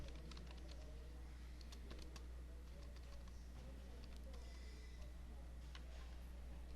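Computer keys clatter in scattered quick bursts of typing, faint beneath a steady low hum of room noise.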